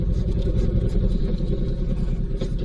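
A Honda VTX1800C motorcycle rides along a dam on the Dnipro shore, its low engine rumble steady and loud throughout, with wind buffeting mixed in.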